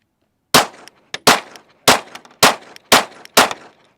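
Six sharp, loud pistol shots from a Glock fitted with a Radian Ramjet compensator, spaced unevenly with short pauses between them and a faint click or two in the gaps.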